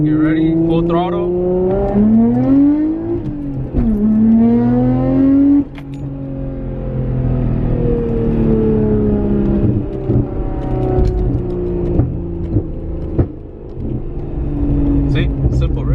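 A right-hand-drive manual car's engine revs under throttle in third gear, pitch climbing and dropping through several loud, close rises and gear changes, with a voice talking over it.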